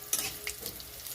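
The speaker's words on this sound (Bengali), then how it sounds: "গোটা জিরে আর রাঁধুনি, আদা ভালো করে ভাজা হয়ে গেছে" Whole cumin, radhuni and ginger fry in hot oil, giving a soft, quiet sizzle broken by a few small crackles and pops over a brief moment, with no voices.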